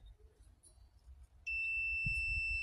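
A mechanically broken power switch on a farm sounds a sudden steady electronic beep partway through, a loud sustained high tone after a quiet stretch of faint handling noise, with no voices.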